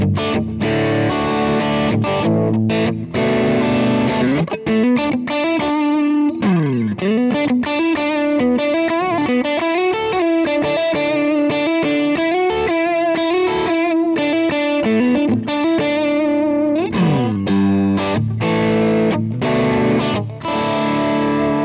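Electric guitar heavily distorted through a bright Kemper amp profile, a continuous loud riff with chugging chords, a pitch-bending slide and melodic lead lines, played with no talking.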